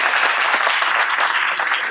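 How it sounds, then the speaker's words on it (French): An audience at a conference plenary session applauds a volunteer, with dense, steady, close clapping that fills the whole short stretch without speech. "on va l'applaudir pour l'encourager, s'il vous plaît."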